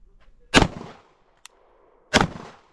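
Two sharp gunshots from a micro AR pistol with an ABC Rifle Company 5-inch upper, each a loud close crack with a short decaying tail. The shots come about a second and a half apart, with quiet between them.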